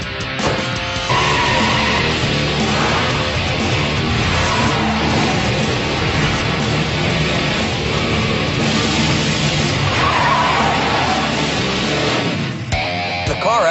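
A 1970 GM truck on Hankook tires does a smoky burnout, its engine roaring loud and continuous while the tires squeal and scrub on the pavement throughout, with a brief dip near the end.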